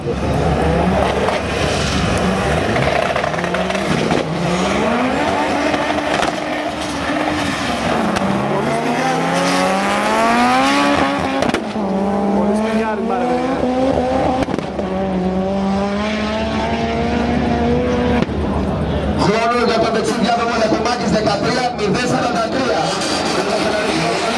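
Drag racing at a strip: a Mitsubishi Mirage fitted with an Evo engine revs hard, pitch climbing and dropping through gear changes, loud and sustained, with an announcer's voice over the engine.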